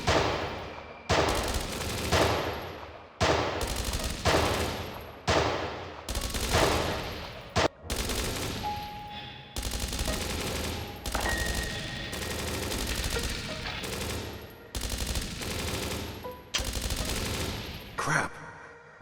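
Gunfire in the video game Dreams Of Another booms out as a long series of loud, evenly spaced blasts, each decaying before the next, some merging into heavier volleys.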